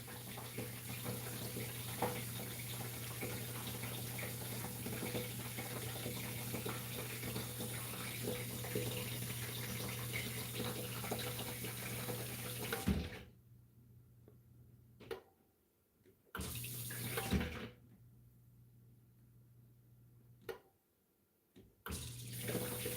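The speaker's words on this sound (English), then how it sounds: "See, I can hear it filling up with water." Water running and filling up, a loud continuous broadband rush for about thirteen seconds, then cutting to quieter intermittent splashes and gurgles with brief silent gaps, close by and without talk.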